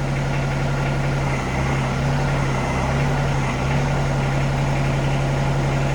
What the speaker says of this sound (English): I'm going to run the hydraulic up and down with the belly mower and the 3-point